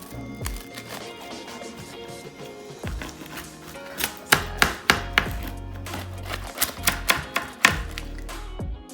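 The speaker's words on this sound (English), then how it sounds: "it's time to cut the pizza" A taco pizza is sliced into pieces, giving a run of sharp, close chopping knocks and taps that cluster into a rapid series in the second half, with no talking.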